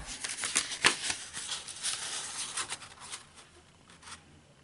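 Stiff paper pocket folder being folded up by hand, giving close, soft rustling and crinkling with a few sharper creasing snaps and slides, gradually quieting toward the end.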